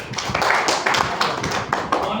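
Thin, uneven applause from a small audience at a morning meeting, a handful of hands clapping in loose bursts, close and fairly loud, with some murmured talk underneath.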